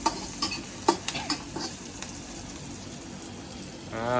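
Pork stir-fried in a pan for Thai pad kra pao, with scraping and stirring strokes over a steady sizzle, a few sharp clatters early on, fairly quiet and close, with no talk.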